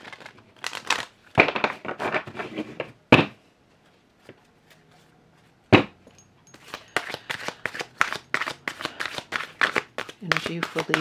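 Cards are shuffled in quick riffling bursts and snapping flurries, close by, with pauses between rounds.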